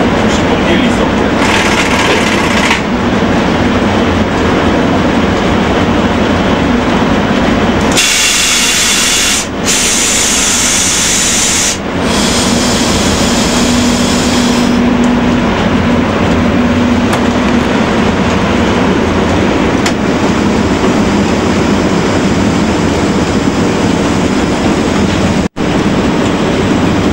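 Train braking: a long, loud stretch of hissing and grinding rumble with shifting air-release bursts, a brief steady squeal partway through and a sharp knock near the end, with some voice mixed in.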